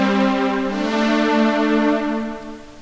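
A sustained, thick synthesizer pad in Reason 5 holding one chord, its detuned oscillator layers gently beating and shimmering, fading slightly toward the end.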